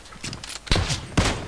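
Kar98k bolt-action rifle fire in a multiplayer team deathmatch video game: two sharp shots about half a second apart, with faint clicks and movement sounds between them.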